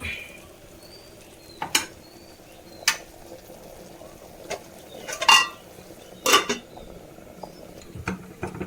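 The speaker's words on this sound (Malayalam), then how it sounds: "കറി നന്നായി തിളച്ച് വന്നിട്ടുണ്ട്." Vegetable curry boiling in a pot, a quiet low bubbling broken by scattered sharp pops and spatters of varying loudness.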